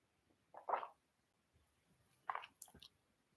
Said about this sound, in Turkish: Bir yudum daha içeceğimden alayım.